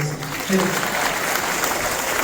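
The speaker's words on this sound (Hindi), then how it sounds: "एक बार जोरदार ताली बजाएंगे।" An audience at a Dhamma Bhoomi event in Delhi breaks into applause, a dense steady clatter of clapping that rises after a faint tone and carries on to the end.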